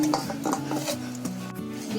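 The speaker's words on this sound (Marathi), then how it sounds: "आता मी या वाटक्यामध्ये पीठ काढून घेते." Rice flour dough scooped from one vessel into a small bowl, with soft scraping and light clinks of utensil against metal, close and moderately loud with no talking.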